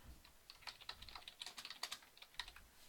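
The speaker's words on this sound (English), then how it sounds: "let me type that up" Rapid, irregular clicking of keys on a computer keyboard in a lecture setting, close and fairly quiet, with bursts of keystrokes and short pauses and no voices.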